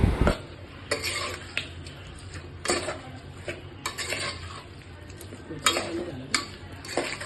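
Spoon stirring chicken biryani masala with oil in a metal pot, producing repeated scraping clinks and knocks at an irregular rhythm, close and moderately loud.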